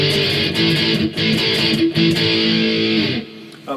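Distorted electric guitar plays the pre-chorus of a song, two chord shapes in steady sustained strums with brief breaks, loud and close, ending on a fading ring and a final pick noise.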